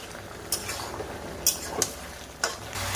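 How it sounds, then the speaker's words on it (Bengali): Vegetables being stirred in a pan with cumin and coriander paste, a soft background sizzle broken by a few sharp clinks and scrapes of a utensil against the pan, fairly quiet and with no talking. "মাঝে একবার ঢাকনা খুলে সবজিকে একটু কষে নেব।"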